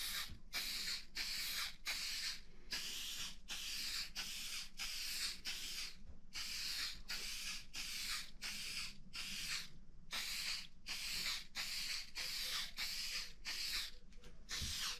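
Shellac sprayed onto a small sanded wooden tissue box: a long run of regular short hissing bursts, close and even, with brief gaps between sprays.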